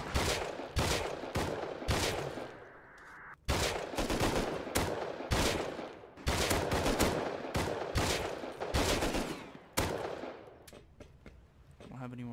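Video game gunfire rings out in sharp, loud bursts of single and rapid shots with brief gaps between, close and dominant, ending in quieter clicking as the ammunition appears to run dry.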